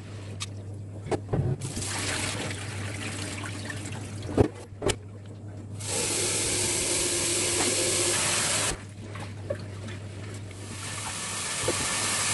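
Water runs over fermented millet in a sieve while it is rinsed to make pap, with a hissing rush that swells in the middle. Small clinks and taps are scattered throughout, close by and without speech.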